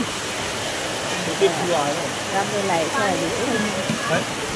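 Heavy rain pouring down in Delhi, heard from a balcony as a steady, broad, hissing wash that stays constant throughout while someone talks over it.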